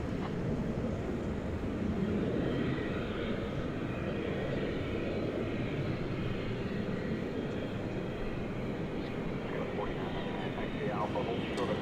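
An airplane on its arrival at DFW Airport, inbound from San Antonio, Texas, gives a steady, broadband engine roar that holds at an even loudness throughout, with faint voices in the background.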